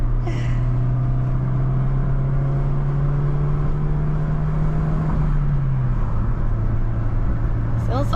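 Steady engine drone from inside a moving 2010-2011 Ford Fiesta with a 1.0 Rocam engine, pitch rising slightly then dropping as it shifts, with a person talking over it.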